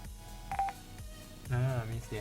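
A CSR8645 Bluetooth module gives a short electronic connection tone, two brief beeps followed by a longer rising chime, quiet and close with faint background talk.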